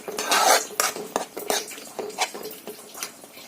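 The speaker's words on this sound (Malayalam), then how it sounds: "ഇനി നമുക്ക് നന്നായിട്ട് ഇളക്കാം." A utensil stirs grated coconut with jaggery syrup in a pan, making repeated close scrapes and clinks against the metal in an uneven rhythm, with a faint sizzle underneath.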